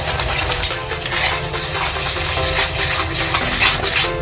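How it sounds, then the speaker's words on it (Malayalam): Ground tomato and onion paste hits frying soya chunks in a pan, giving a continuous close sizzle with scraping stirs and light utensil clinks throughout. "ഇതിലേക്ക് നമുക്ക് തക്കാളിയും സവാളയും കൂടി നമ്മൾ അരച്ച് വെച്ചത് ചേർത്ത് കൊടുക്കാം"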